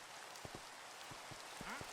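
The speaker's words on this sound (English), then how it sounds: "Oh, it's raining again." Rain falls in Minecraft as a soft, steady patter, with a few brief sharper taps scattered through it, quiet and with no talk over it.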